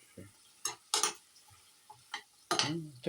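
Raw dumplings frying in a pan are stirred with a utensil, giving a few short scraping, sizzling bursts spaced irregularly amid quiet crackle.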